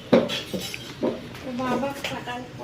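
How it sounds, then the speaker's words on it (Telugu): A child drops dishes into a kitchen sink at home, a few clattering knocks of pots and plates spaced across the moment, close and fairly loud, with a voice talking over them. "గిన్నెలు తీసుకుని వెళ్ళి అక్కడ వేసేస్తున్నాడు"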